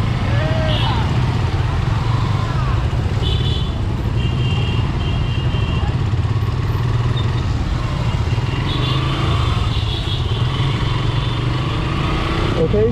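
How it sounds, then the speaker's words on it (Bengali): Nineteen motorcycles riding together in a Bangladeshi wedding procession, a steady engine drone with road rumble and wind, loud and close, with voices and faint horn-like tones over it. "টোটাল 19টা বাইক যাইতেছি"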